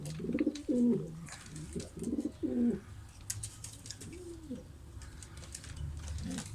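Several soft, low coos from a nesting racing pigeon in rounded rhythmic phrases, close by, with quieter coos trailing off later against light background noise.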